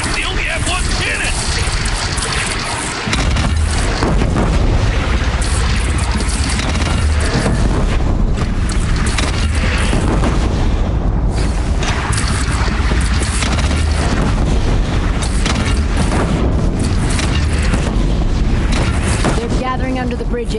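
Booming cannon fire in the video game Horizon Zero Dawn, with heavy low blasts layered in a dense, loud battle mix under shouted voices and music.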